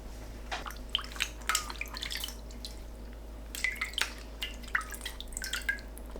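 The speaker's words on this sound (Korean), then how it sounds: "2분 뒤 다시마를 건져 찬물에 헹굽니다. 다시마는 체에 받쳐두세요." Water drips from rinsed kelp set to drain in a sieve: faint, irregular small droplets falling one after another in a quiet room.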